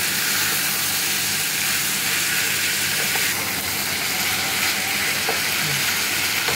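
Banana flower curry frying in a pan gives a loud, continuous sizzle and hiss while being stirred, with faint scraping and no talking.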